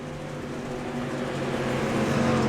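Dirt race cars in a racing video game thunder together at the green flag, a dense, steady engine drone that swells slightly louder toward the end, close and continuous with no talking.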